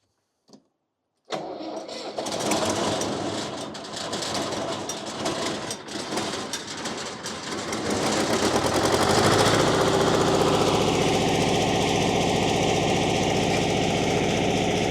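A Miller Air Pak 400 welder's engine is cranked by hand-jumped starter and catches, turning over loudly and roughly before settling into a steady, droning idle with a rising whine, close and alone without talk.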